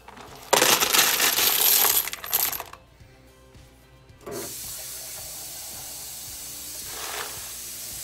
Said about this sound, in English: What we'll do is we'll just pour it right in the bucket here.